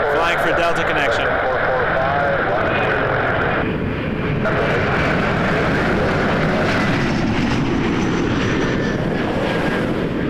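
Endeavour Air RJ900 regional jet flying for Delta Connection at Toronto airport, a loud, steady engine roar sustained throughout with a voice talking over it.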